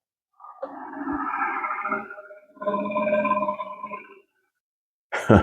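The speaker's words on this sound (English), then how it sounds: "Sounds like a lion's roar." A Hasbro Haslab Ghostbusters II in-the-box ghost trap toy plays an electronic effect like a lion's roar: two long, loud growling bursts with a brief gap between, then a sharp noisy blast right at the end.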